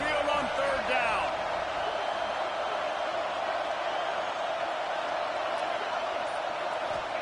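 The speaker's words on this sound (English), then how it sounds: "The Tide crowd rolling noise down onto Saban Field on 3rd down." Alabama Crimson Tide football crowd on third down at Saban Field, a loud sustained roar of stadium noise filling the space with continuous broad din and scattered shouts.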